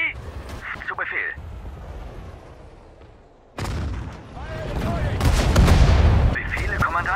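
Machine-gun fire and battlefield blasts in Sudden Strike 4, set in the Battle of the Bulge, with bursts that swell into a loud, dense barrage, mixed with spoken voices and short radio-style unit callouts.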